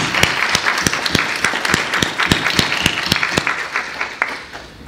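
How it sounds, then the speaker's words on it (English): A gathered audience at a training institute breaks into applause, a dense wash of clapping with a few sharp, rhythmic claps standing out, fading slightly at the end. "I want us to give you and all of us a round of applause"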